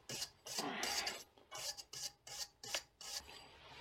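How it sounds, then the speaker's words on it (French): A wire brush rasps across the brake disc surface of a BMW E39 in short, close, repeated strokes with brief pauses between them, alone and without voices. "Là, on va mettre un petit coup de brosse métallique, histoire que la surface soit la plus plane et propre possible."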